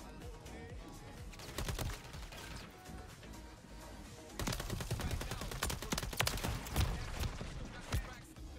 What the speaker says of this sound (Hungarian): Nem tudom, ki lő ennyire, de nem tud ellőni.